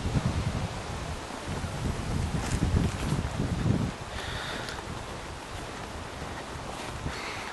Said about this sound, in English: these places where it's very quiet, yeah, and there's just the wind